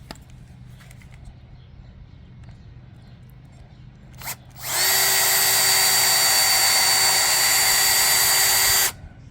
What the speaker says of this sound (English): Let's drill them in.